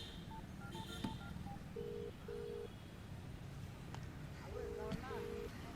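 A phone is dialed in a series of short electronic keypad beeps, some quick and some longer, over a low background hum with faint voices.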